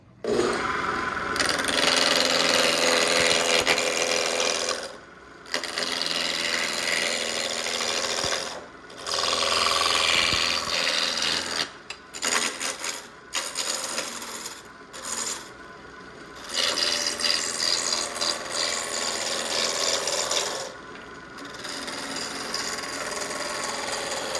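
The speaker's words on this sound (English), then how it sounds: "I'm going to use a pretty good sized roughing gouge to just get the blank round" A large roughing gouge shaping a wooden tool-handle blank on a lathe, producing loud, continuous rasping and scraping that repeatedly breaks off for brief pauses between passes, close up with no talking.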